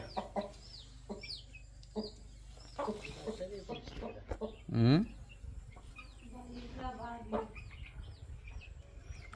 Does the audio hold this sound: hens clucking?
yes